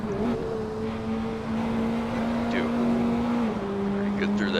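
Praga R1 race car in the Assetto Corsa video game, engine held at a steady high drone under throttle, then briefly dipping and recovering, with faint tire noise over the sustained tone.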